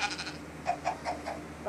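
Goat bleating in the video game Minecraft, a series of short nasal bleats repeating in quick succession, fairly close and clear with no speech.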